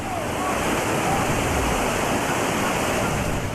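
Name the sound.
raging whitewater rapids of the Trinity River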